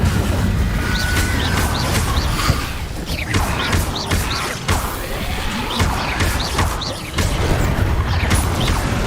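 Incendio fire spell cast repeatedly in Hogwarts Legacy during a combat trial: dense, continuous bursts of fiery whooshes with heavy booming impacts and crashes, loud and layered throughout.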